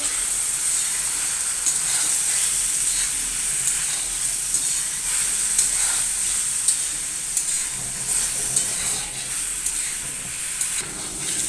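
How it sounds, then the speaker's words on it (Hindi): Ground spices such as cumin powder and garam masala fry in a pan for chicken liver masala, giving a steady, close sizzle and hiss with faint stirring scrapes throughout and no talking. "सारे मसाले हमारे अच्छे से फ्राई हो चुके हैं"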